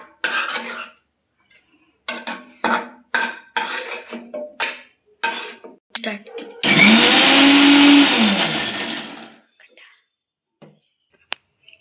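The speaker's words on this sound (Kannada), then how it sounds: "ಇದನ್ನು ಮಿಕ್ಸಿಗೆ ಹಾಕ್ತಾಯಿದ್ದೀನಿ ನಾನು" A mixie grinder blends tomato-based masala for a hotel-style paneer curry. Clinks and taps of utensils come first, then the motor gives a loud, steady whir for about three seconds and stops abruptly.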